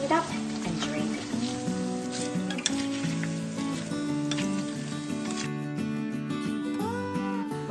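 Pork skin fries in hot oil in a Saladmaster pan while it is stirred, giving a steady close sizzle that runs the whole time beneath tonal background music.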